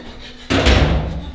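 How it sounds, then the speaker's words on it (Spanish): A door bangs open with a sudden heavy thud and a lingering rumble, loud and close, in a house during a frantic moment. "¡Ábrame la puerta!"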